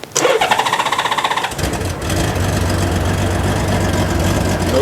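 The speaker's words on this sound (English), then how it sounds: "you just gotta press the start button and it engages the starter backwards" A 1994 Honda Goldwing GL1500 motorcycle fires up in reverse on its starter: a loud, close cranking whir with rapid pulses for about a second and a half, then the engine catches into a steady, throbbing idle.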